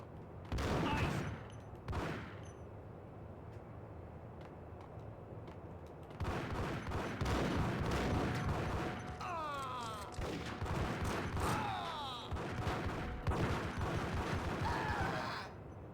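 Heavy gunfire in the Max Payne game, with dense volleys of shots coming in loud bursts separated by quieter gaps, some sustained rattling fire, plus occasional whistling and ricochet-like tones.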